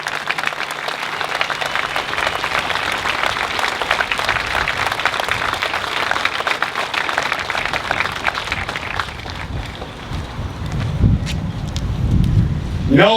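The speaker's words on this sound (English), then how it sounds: "Give them a round of applause." A crowd applauds at an outdoor 9/11 responders memorial in a park. The clapping is sustained and fairly loud for several seconds, with wind buffeting the microphone, and fades out as low rumbling noise and a voice come in at the end.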